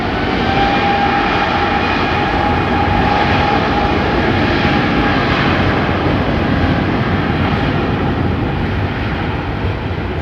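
Air India airliner passing at London Heathrow, a loud, continuous engine roar with a steady whine that holds throughout.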